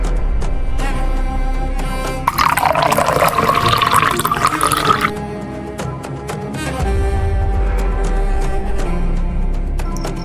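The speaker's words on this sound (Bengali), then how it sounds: "মালটা ঢেলে দেখাও।" Liquid is poured out in a single steady stream for a few seconds, splashing and filling loudly against a continuous low background hum, with no talking.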